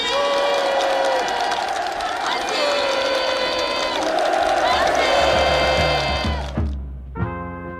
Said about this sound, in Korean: 살림집 이용 허가증이 참가자들의 열렬한 박수 속에 전달됐습니다